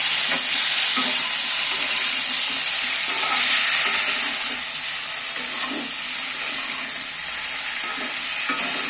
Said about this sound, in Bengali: এইবার আমি সেদ্ধ করা ফুল আমি দিয়ে দিচ্ছি দিয়ে এবারে আমি একটু তেলেতে নাড়াচাড়া করতে থাকবো